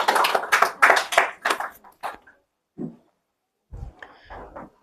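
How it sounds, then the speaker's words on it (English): A small audience at a school practice session claps for a speaker for about two seconds, a quick patter of hands that thins out and stops, followed by near silence and a few faint sounds. "Please clap for her."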